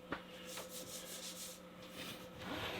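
A toboggan from Lure of the North is rolled up by hand, with close, continuous rubbing and scraping swishes as the material is worked over itself, fairly quiet and without talk.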